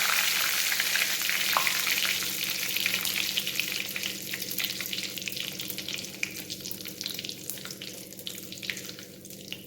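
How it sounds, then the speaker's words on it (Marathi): Mustard seeds, cumin and curry leaves sizzling in hot oil, a bright dense crackle that holds close and steady throughout, slowly thinning toward the end. "तेल व्यवस्थित तापलं की सर्वात प्रथम आपण त्यात मोहरी टाकूया मोहरी व्यवस्थित तडतडली की जिरे टाकून घेऊ"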